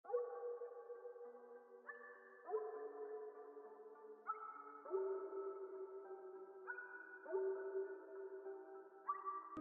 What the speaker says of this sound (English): And then for our second sound, we have pulled out Electric X. And the preset that we have is called Arp Drankenstein.